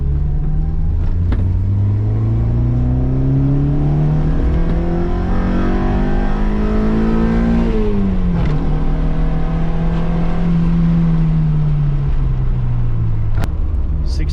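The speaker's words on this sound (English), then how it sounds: "we're going to do a second gear pull" A Honda Civic with a D16Y8 EFI engine accelerates hard in second gear, its engine note climbing steadily for several seconds, dipping briefly, then rising again, loud and close from inside the car.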